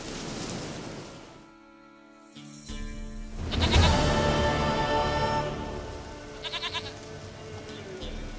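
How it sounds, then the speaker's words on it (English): A goat bleats in The Witcher 3 video game, a few wavering calls standing out clearly over soft ambient rain and game atmosphere, with no talking. "Goat of mine, dearest, sweetest goat."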